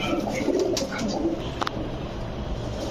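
Soft pigeon coos repeat a few times nearby, with a couple of faint higher chirps over a low background hum.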